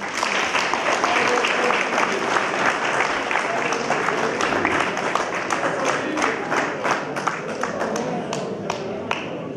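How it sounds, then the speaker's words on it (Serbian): An audience at a travelling documentary film festival screening in Osečina applauds to greet Zoran Simić: dense, sustained clapping from a crowd, loud and continuous for the whole stretch with crisp individual claps standing out. "Jednim velikim aplauzom pozdravimo Zorana Simića."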